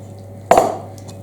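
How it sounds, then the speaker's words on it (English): Milk goes into a bowl of flour paste for toad in the hole batter, a single brief splash and clink of liquid hitting the bowl, close and clear against quiet. "So in goes the milk."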